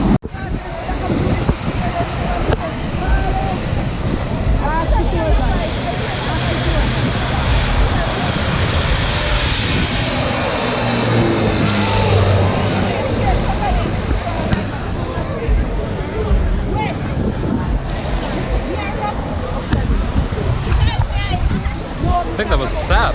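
A Saab turboprop airliner passes by at St Martin, a broad steady engine roar swelling and peaking midway before easing, mixed with wind and surf-like wash, with people talking faintly underneath.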